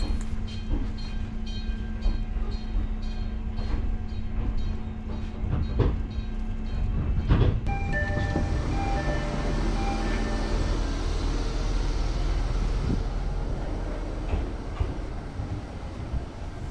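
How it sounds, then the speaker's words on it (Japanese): Steady rolling rumble and rattle of a Fujikyu line train bound for Otsuki, riding from Fujikyu Highland toward Shimoyoshida, heard from inside the car, with a brief change in the tone of the running noise partway through. "富士急行線の大月行き行きでたった3駅10分で到着します。"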